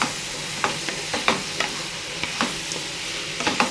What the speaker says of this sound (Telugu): టమాటోస్ అనేది వేసేసుకోవాలి మనం